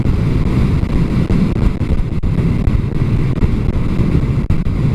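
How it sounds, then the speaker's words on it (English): Heavy wind buffeting the microphone while riding a Dragstar motorcycle on a blustery day, a loud, continuous low roar with gusty fluctuations and no talking. "Bloody hell, it's windy."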